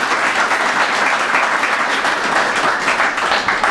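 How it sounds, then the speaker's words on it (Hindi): A church congregation gives a loud, sustained round of applause, dense clapping filling the hall steadily for several seconds with no speech over it. "आइए बाप के लिए जोरदार तालियां।"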